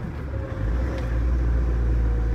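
An old Mahindra Scorpio's engine running after a shift into third gear, a close, steady low hum that grows slightly heavier after a brief change at the shift.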